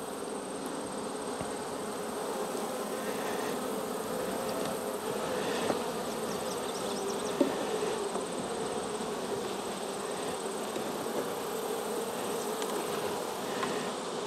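Honey bees drone steadily around an open hive in a beekeeper's outyard, a continuous buzzing swarm sound close by with no voices.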